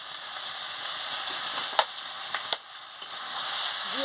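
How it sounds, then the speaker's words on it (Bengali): Vegetables sautéing with spices and salt in a pan for a Bengali fish curry with Malabar spinach, a steady close sizzle with a few sharp clicks of stirring, no one talking. "দিয়ে ভালো করে আনাজগুলো মশলার সঙ্গে কষিয়ে নিচ্ছি"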